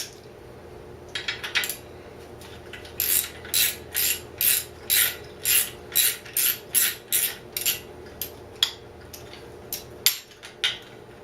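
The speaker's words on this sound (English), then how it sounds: "10 socket and ratchet." A 10 mm socket on a ratchet turns a bolt while tearing down a Honda CL160 motorcycle, giving steady bursts of close, sharp ratcheting clicks, about a dozen quick strokes in a row with short pauses between.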